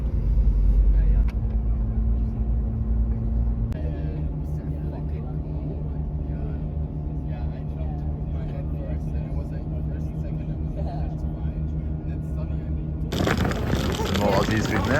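A direct bus crossing the border into Montenegro gives a steady, low engine rumble and road drone that runs throughout, with speech over it and a louder, brighter burst of noise near the end.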